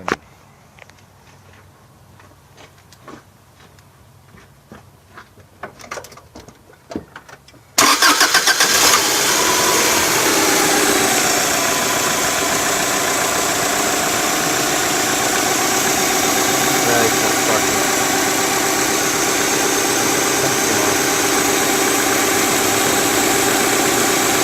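A 1998 Subaru Legacy GT with a 2.5-litre EJ25 engine fitted with an MSD DIS-2 ignition is cranked in a few faint, uneven bursts, then fires and settles into a loud, steady idle close by.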